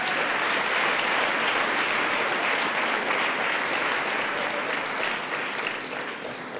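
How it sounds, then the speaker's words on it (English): A congregation at a school thanksgiving Mass claps for the singers. The applause is loud and continuous, a dense wash of clapping that tapers off slightly at the end. "you have actually done us well to clap for them"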